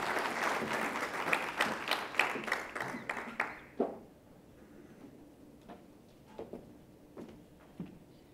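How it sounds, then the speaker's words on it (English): Audience applause for a Western Cape premier about to address a morning gathering, a dense burst of clapping that swells for several seconds, then thins into a few scattered claps. "we're going to have a round of applause for Premier Helen Zille"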